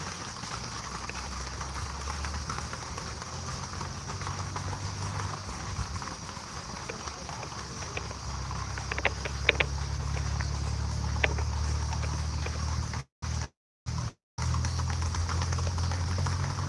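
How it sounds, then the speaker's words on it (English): Horses run through the Puerto Rico mountains near Rincon late at night, their hooves a soft, continuous patter at a distance beneath a steady background hum, with the sound cutting out briefly near the end. "Look at all them horses. Wow, look at them go."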